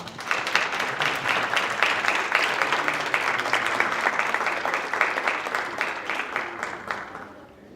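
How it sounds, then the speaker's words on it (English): An audience at a Relay for Life kick-off party applauds caregivers with full, continuous clapping that stays strong for most of the stretch and then fades out. "please give our caregivers a round of applause as well"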